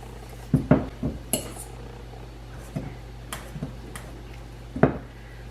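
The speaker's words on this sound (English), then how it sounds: "just take the bananas and mash them" Bananas are mashed in a bowl for sourdough discard banana bread, with a fork or utensil clinking and scraping against the bowl in several irregular taps over a low steady hum.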